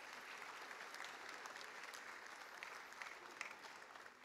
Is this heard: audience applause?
yes